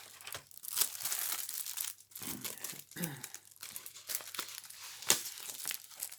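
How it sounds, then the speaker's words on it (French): A paper envelope handled while storing clear rubber stamps, with close, crinkly rustles and brief tearing-like crackles in irregular bursts separated by short pauses, and no talking. "nous allons prendre notre enveloppe"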